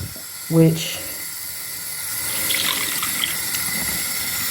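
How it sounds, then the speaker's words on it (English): Running water rinses out the back of a bathroom sink, a soft steady hissing flow after a brief sharp knock at the start. "I'll take the water and it'll rinse whatever is in the back"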